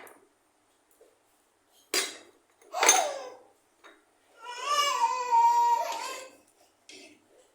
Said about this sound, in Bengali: ওই যে পেছনে শোনা যাচ্ছে আমার ছেলেদের আওয়াজ, ওরা খেলা করছে।